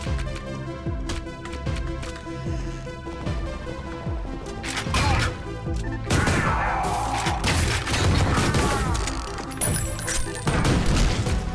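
Pistol fire in Ion Fury, a run of sharp repeated shots mixed with booming impacts and crashes, loud and busy throughout.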